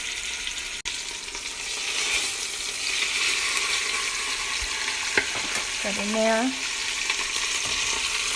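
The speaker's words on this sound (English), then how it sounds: "put it skin side down and make sure you hear that sizzle" Chicken breasts laid skin side down in hot olive oil give a steady, close sizzle and crackle that runs throughout, with a brief spoken remark over it.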